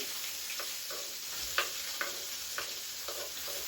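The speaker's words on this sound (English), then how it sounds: "We're going to add in our purple onion." Purple onion crackles in frying oil for Malawi usipa, a soft steady sizzle broken by light stirring taps against the pot; no one speaks.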